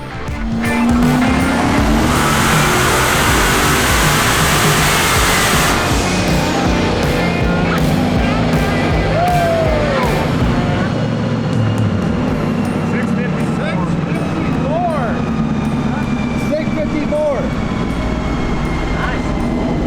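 Turbocharged LS V8 in a Foxbody Mustang revving loud and continuous on a chassis dyno, roaring steadily for the whole stretch with rising and falling pitch sweeps and turbo whine, with brief voices beneath.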